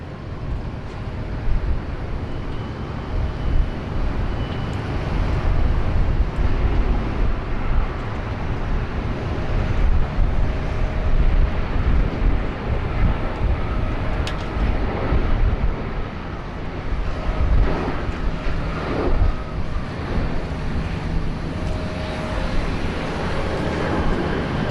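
A Jetstar Airbus A320 arriving at Sydney Airport gives a long, moderately loud rushing engine roar mixed with wind buffeting on the microphone, rising and falling gently throughout, with no voices.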